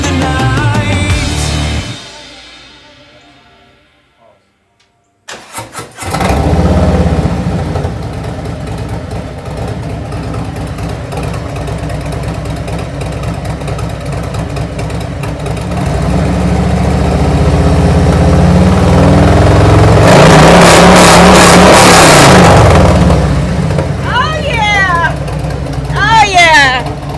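A motorcycle fitted with Tab 50 Cal Zombie baffle slip-on exhausts idles with a deep, steady, loud rumble after a brief silence and then revs up harder; a voice talks briefly near the end.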